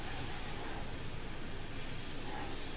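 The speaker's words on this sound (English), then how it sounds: "So I'm just gonna barely spray it on here." Steady airbrush hiss spraying Purely Pigments paint, a continuous airy spray holding at even strength throughout, close by with no voices.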